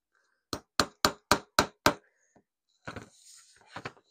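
A pair of pliers taps a screwdriver six times in a quick even series of sharp metallic knocks, close and crisp, followed by a few softer shuffling and handling sounds.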